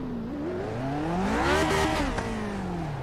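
A race car engine in the Grand Prix Legends racing game at Virginia International Raceway, revving hard from a start with full wheel spin: a loud, close, steady engine note that climbs in pitch, peaks, then eases back down, with no voices.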